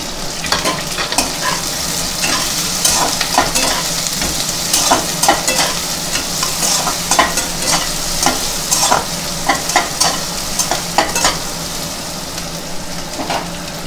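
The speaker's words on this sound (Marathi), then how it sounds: "कांदा सॉफ्ट होईपर्यंत परतून घ्यायची" Chopped onion with curry leaves sizzles and crackles steadily in hot tempering oil, with frequent scraping stirs against the pan, close and continuous throughout with no talking.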